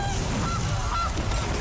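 A goose honk sound effect played for the Gilded Goose card in the digital card game Magic: The Gathering Arena, heard as a short, steady honking call lasting under two seconds with no talk over it.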